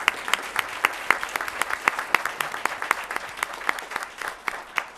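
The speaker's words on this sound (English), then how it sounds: "give her a round of applause" A modest crowd at a county board of commissioners meeting claps with sharp individual hand claps, giving an uneven, fairly sparse patter that runs throughout.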